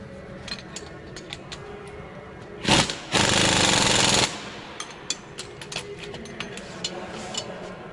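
A power tool tightens bolts during a turbocharger and exhaust installation on a Caterpillar 3406 diesel engine. It gives a short burst followed by a loud, steady rattling run of about a second and a half, amid quieter clanks and handling noises.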